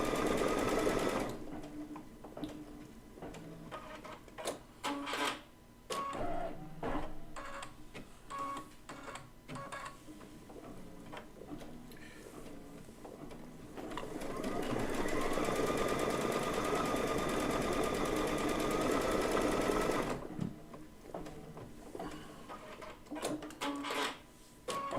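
A sewing machine stitches out individual flower petals for a quilt block, running in close bursts of rapid mechanical chatter with brief stops and restarts and one long steady run in the middle.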